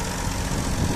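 A Massey Ferguson 241 tractor's engine idles with a dense, steady low diesel chug, loud and close, unbroken across the short stretch and without talk.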